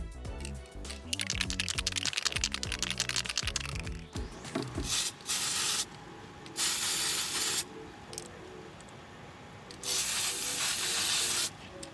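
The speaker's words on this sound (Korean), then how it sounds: "이제 앞뒷면 모두 도밍이 잘 굳었으니까 무광 스프레이를 뿌려줄게요." Matte spray paint sprayed onto a resin shaker keychain: loud, close bursts of aerosol hiss in several separate sprays, following some tapping and rattling handling sounds, with no talk.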